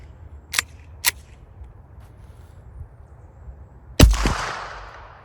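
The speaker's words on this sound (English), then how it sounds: "now we've got the shortened rugged Obsidian 9 suppressor on here, running the same supersonic ammo" A pistol fitted with a shortened Obsidian 9 suppressor fires supersonic ammunition, giving one loud, sharp crack with a trailing decay. Two fainter snapping clicks come before it in an otherwise quiet space.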